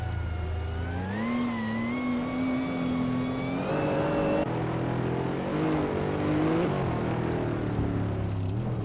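A 2015 McLaren 675 LT race car engine in a racing video game, loud and continuous, its pitch climbing through gear changes with a shift or cut near the midpoint, then revving up and down with no talk.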